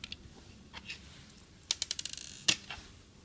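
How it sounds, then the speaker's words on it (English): Tiny screws being backed out of an N scale diesel locomotive model with a small screwdriver, giving a quick run of close, crisp ratcheting clicks that speed up, then a sharper snap, over quiet room tone. "just going to remove these two screws"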